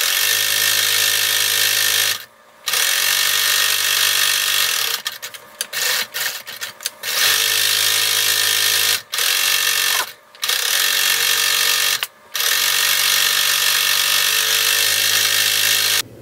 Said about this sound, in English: you are going to sew all the way around the long rectangle with 1/8 inch away from the edge